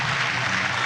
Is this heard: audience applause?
yes